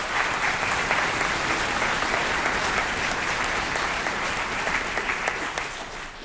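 Dense, sustained audience applause fills a school auditorium at a seventh grade band spring concert, steady and full throughout with no talk.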